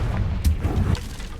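Confringo blasting spell going off in a magic video game: a short boom with a low rumble and a brief crackling burst, heard alone without talk.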